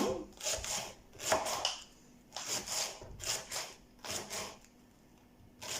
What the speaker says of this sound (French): quand j'aurai fini de découper tous mes poireaux